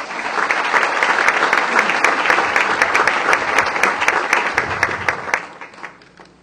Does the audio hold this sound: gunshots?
no